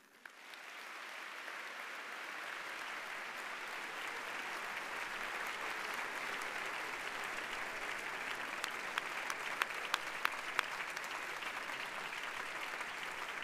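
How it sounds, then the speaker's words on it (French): A large audience at an ESSEC business school commencement ceremony applauds steadily, a dense, even wash of clapping that swells in quickly and holds for many seconds, with a few louder individual claps near the end. "Donc je pense qu'on peut les applaudir."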